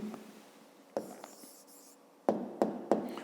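Pen scratching out the answer to a fifth-grade math exercise on perimeter, close and quiet, with several sharp tapping strokes clustered near the end after softer scribbling.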